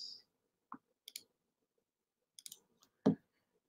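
Several sharp, isolated mouse clicks, close and dry, spaced irregularly with quiet gaps between them while a chart is drawn on screen.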